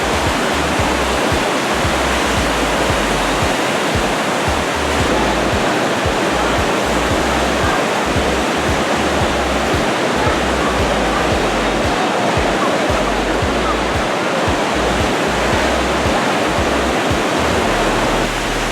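Whitewater rapids of the Niagara River roar in a loud, continuous broadband rush that stays steady throughout and has no gaps.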